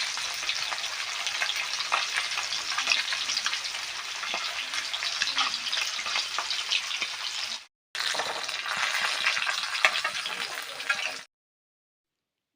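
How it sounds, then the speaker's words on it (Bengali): Pieces of chital fish fry in hot oil with a continuous close, crackling sizzle that breaks off briefly, resumes, then cuts to silence, with no talking. "ঠিক এইভাবে বাকি মাছগুলোও ভাজা করে তুলে নেব"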